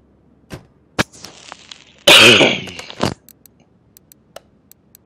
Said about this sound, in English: I do apologize for all the coughing.